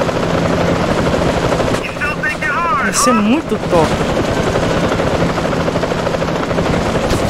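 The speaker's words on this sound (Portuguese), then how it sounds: "Eu queria pegar o helicóptero." Helicopter in a GTA game modded with an Ant-Man and Wasp mod, a steady loud rotor drone running throughout with bursts of machine-gun fire mixed in, while someone talks over it.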